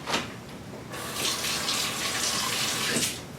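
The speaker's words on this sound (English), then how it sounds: "So now I'll rinse that off" Tap water runs steadily into a sink, gushing loud and close as a hand is rinsed under the stream, with the flow shifting slightly as the hand moves, and no talking.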